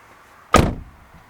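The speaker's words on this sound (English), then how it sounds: "Now I can close the door." A single solid thunk of a 2009 Pontiac G8 GXP car door shutting, short and close, then quiet.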